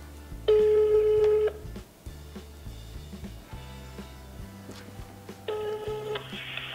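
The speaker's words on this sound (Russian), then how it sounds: "Ну, давайте попробуем... значит, позвонить в эту компанию." Telephone call tones placed to a company: a bright repeating ring-back tone sounds at the start and again near the end, over a steady low background music bed, with no talking.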